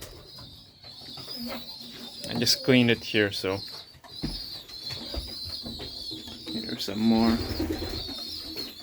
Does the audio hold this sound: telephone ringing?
no